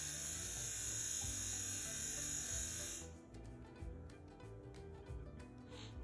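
A Dragonhawk Slip rotary tattoo machine hums with a fine, fast buzz of the moving needle, steady and close for about three seconds before it stops and leaves faint room noise.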